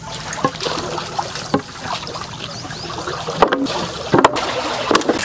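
Water draining out of a fishpond toward a river, a steady rushing gurgle that runs the whole time with a few splashy knocks, fairly loud and close with no talk.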